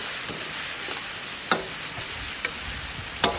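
Lamb stir-frying in a wok with wine and spices, a steady hiss of sizzling with scraping strokes of the spatula every second or so, close and continuous.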